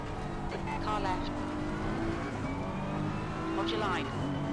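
A race car in the Assetto Corsa sim racing game sweeps past with a rising and falling engine whine, two passes audible over a steady hum of other cars, while a voice talks over it.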